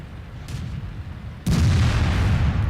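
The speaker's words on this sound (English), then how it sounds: "Oh, I just took a Stug shell." A StuG tank shell slamming into a KV-2 tank in World of Tanks, a sudden loud booming impact after a rumbling engine bed, followed by sustained heavy low rumble.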